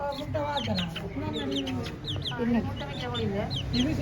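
Several chickens cluck and squawk close by in a busy, overlapping chorus, with voices faintly mixed in beneath the birds.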